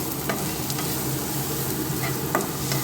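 Sliced green chillies being stirred into hot oil for dal fry, a close, bright sizzle with a few spoon scrapes and clicks against the pan, and no voices.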